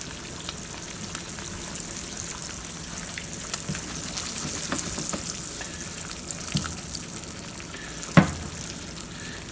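Eggs frying in a pan for biscuits and gravy, giving a steady close crackling sizzle with scattered pops and one sharper clink near the end; no voices.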